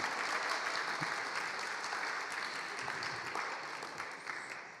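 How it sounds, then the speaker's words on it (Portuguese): Steady, dense applause from a church congregation during a celebration service, many hands clapping together at an even, sustained level for several seconds without letting up. "Salva de palmas para a Jassanã."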